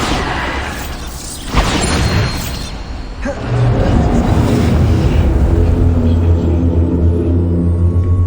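A Bombarda spell in a Harry Potter video game goes off as a loud, close booming blast, followed by a sustained rumbling roar and debris noise that holds steady for several seconds.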